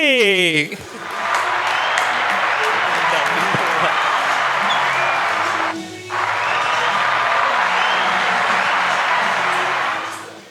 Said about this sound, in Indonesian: Ayo tepuk tangan buat Togi.